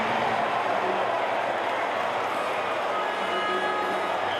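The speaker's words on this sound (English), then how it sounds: "You could hear the crowd." A football stadium crowd at a Club Franciscain vs CD Walter Ferretti match roars in a continuous, broad wash after a near miss, steady and fairly loud, with a commentator's voice likely mixed in.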